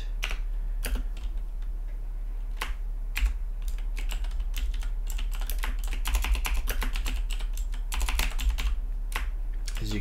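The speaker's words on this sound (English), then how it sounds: "as you can see my typing is not the greatest today" Rapid, uneven typing on a computer keyboard in a PowerShell scripting editor, a steady patter of close, crisp key clicks with short pauses and bursts, no voices.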